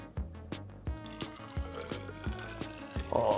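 Hydrogen peroxide pours into a container in a lab bubble experiment, a steady liquid stream with soft splashy bursts and a few knocks throughout, fairly close and moderately loud.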